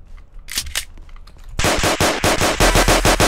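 Loud rapid gunfire from a Roblox game: after a quieter opening, a steady run of repeated automatic shots starts suddenly and continues to the end, close and dominant.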